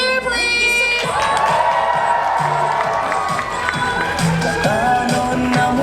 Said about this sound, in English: Alright, let's get a loud cheer, please!